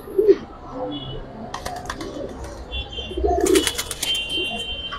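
A male Giribaj pigeon, a large bird offered for sale at a market near Lalbagh Fort, gives a couple of low coos amid other pigeon chirps and wing flutters, with a steady crowd murmur behind.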